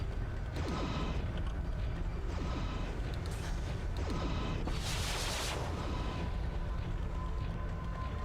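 Weapon fire from mechs in the MechWarrior 3 video game, a dense steady barrage of rapid shots and mechanical clatter with a bright burst midway, loud and continuous, no talk.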